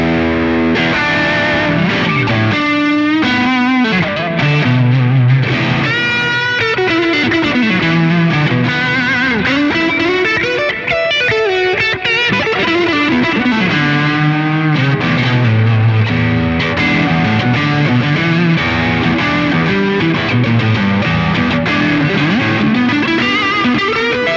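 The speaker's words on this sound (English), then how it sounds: "Try some high gain tones with the Strat." Heavily distorted electric guitar, a Stratocaster with high-gain tone, playing a continuous riff with sustained, saturated notes and bends, loud and up front with no talking.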